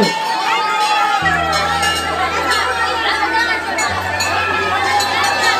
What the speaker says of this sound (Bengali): অগণিত দর্শকের যে ভিড়, যে সমাগম ঘটেছে